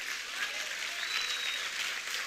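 A church congregation applauds at an Easter Sunday service, a steady wash of clapping hands, moderately quiet and continuous throughout, with no distinct voices on top.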